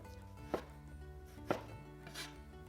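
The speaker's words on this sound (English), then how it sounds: "Cut the pork belly into bite-sized pieces." A knife chops pork belly into bite-sized pieces on a board, with two sharp, close cuts about a second apart and a softer third stroke, the steady background clatter of a home kitchen underneath.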